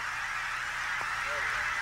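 An Aleutian Canada goose at Izembek National Wildlife Refuge gives one short honk over a steady wash of wind or surf, with a brief sliding call near the end.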